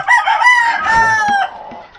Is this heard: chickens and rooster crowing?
yes